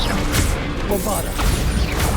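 Bombarda explosion spell cast in the video game Hogwarts Legacy, a loud crashing blast with a booming impact and debris scatter, dense and continuous over game ambience.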